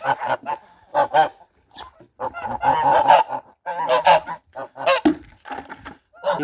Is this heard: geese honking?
yes